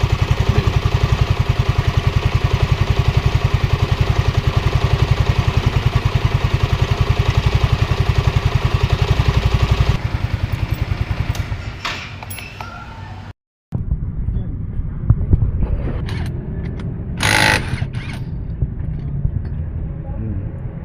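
A Yamaha Mio Soul scooter with a worn clutch lining and a broken clutch spring runs with a loud, fast, pulsing engine rattle for about ten seconds. The engine then drops to quieter idling while someone talks.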